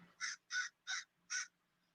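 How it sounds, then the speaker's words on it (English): A crow cawing four times in a steady rhythm, harsh evenly spaced calls heard clearly with quiet gaps between and a faint low background murmur. "Tell that crow to shut the fuck up."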